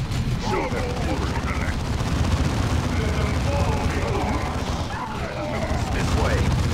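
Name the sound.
gunfire in the video game Dawn of War 2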